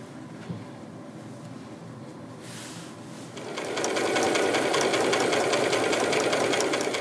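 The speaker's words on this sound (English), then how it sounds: "Now we're going to go ahead and sew our edges together." Sewing machine stitching the edges of a wrap skirt together, starting after a quiet moment and running steadily with a fast, even mechanical whir close by.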